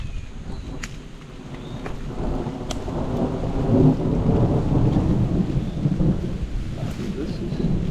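A thunderstorm: steady rain falling with low rolling thunder building and rumbling through the middle, a few sharp drops ticking on top.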